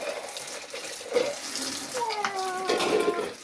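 Water sprays steadily from a garden hose nozzle, a continuous hiss and splash close by, with a voice and other talk over it.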